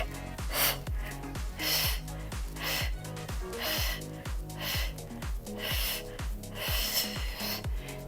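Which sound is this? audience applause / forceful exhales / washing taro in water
forceful exhales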